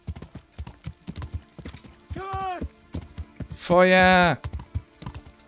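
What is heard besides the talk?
horse Pebbles hooves clip-clopping in video game Kingdom Come: Deliverance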